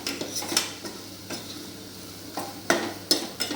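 Ingredients sautéing in a pan sizzle quietly, with intermittent scraping and stirring knocks, including a few sharper clinks near the end.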